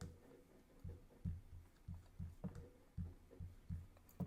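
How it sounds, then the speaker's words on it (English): Low, thudding heartbeat pulsing in a steady double rhythm, about eight beats in four seconds, close and muffled with no voices over it. "Oh, Heartbeat."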